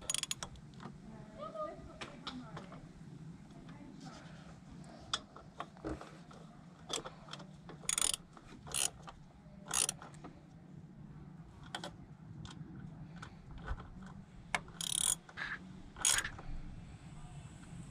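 Ratchet tightening bolts on a Volvo M56 manual gearbox from a 2.4 non-turbo V70, S60 or S80, giving a series of short, sharp clicks and creaks spread irregularly over a low workshop hum, close and fairly quiet.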